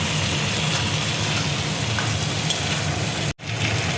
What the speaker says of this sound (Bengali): মশলাটা দেখো ভালো করে আমি কষিয়ে নেব।